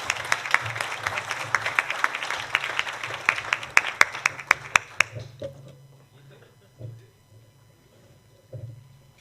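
An audience at a retired U.S. Navy captain's meeting applauds for about five seconds with dense, fairly loud clapping, then the applause thins into scattered claps and fades to quiet room sounds.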